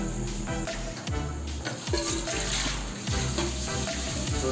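Running water splashes into a metal pot while it is rinsed during chicken biryani cooking, with scraping and clanking of the pot throughout, continuous and close.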